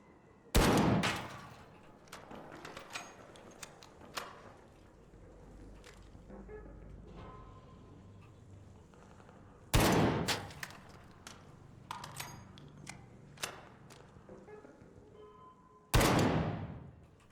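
Gunfire in the video game Arc Raiders: three loud, sharp blasts spread far apart, with scattered quieter clicks, thumps and small impacts in between.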